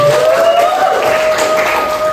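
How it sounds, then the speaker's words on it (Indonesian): Classroom applause during a microteaching lesson, loud continuous clapping from students filling the short moment, with a steady tone running beneath. "Tepuk tangan untuk Ivan"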